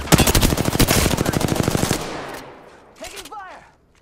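Loud, close automatic gunfire in Apex Legends, a rapid steady burst of about two seconds that fades out, followed by a brief spoken game voice line.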